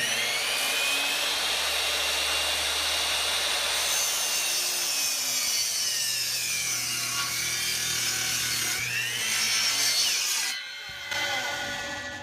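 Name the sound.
power saw cutting cedar 4x4 post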